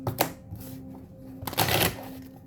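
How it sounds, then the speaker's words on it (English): Tarot cards being shuffled by hand in a quiet room, heard as short papery riffles and a louder burst of flicking cards partway through, with no one talking. "I'm shuffling. I like to shuffle them this way too, that way."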